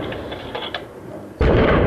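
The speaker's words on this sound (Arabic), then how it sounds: "استهداف الراجمة ذات 12 صاروخ" A 12-rocket launcher fires during fighting in Damascus: after a quieter stretch of low rumble and small pops, a sudden loud launch blast erupts and roars on to the end.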